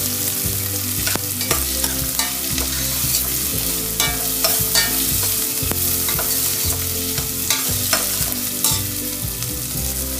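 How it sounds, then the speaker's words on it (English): Colored bell peppers sauté over high flame in a pan, a steady loud sizzle broken by repeated scraping and stirring strokes of a spatula throughout. "Add the peppers, colored peppers I am using. Again saute for around 30 seconds."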